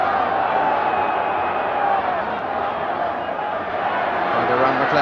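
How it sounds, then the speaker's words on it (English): A football crowd roars at Wimbledon v Watford, an FA Cup tie in 1988, stirred after a goal: a dense, sustained wash of cheering and chanting, loud and steady throughout. "The goal has certainly woken up the crowd."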